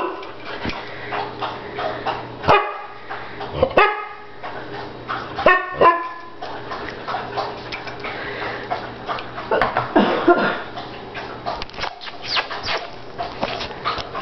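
A dog named Mercedes barks in short, separated bursts up close, three or four loud woofs spread across the span, with softer yips, panting and handling noises between them.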